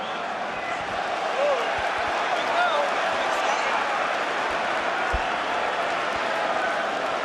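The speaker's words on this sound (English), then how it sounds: "Wow, what noise, what a crowd to witness" A packed boxing arena crowd roars in a steady, dense wash of noise that never lets up, with scattered thuds and claps and indistinct voices buried inside it.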